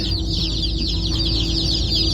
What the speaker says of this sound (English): That's a lot of baby birds.